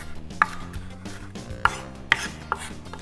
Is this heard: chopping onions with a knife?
yes